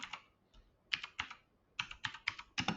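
Computer keyboard typing in short clustered bursts of sharp clicks with brief pauses between, close and clear, no voices.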